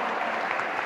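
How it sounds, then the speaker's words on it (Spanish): An audience at a live event claps in a brief, dense burst of applause at moderate distance. "¡Un aplauso!"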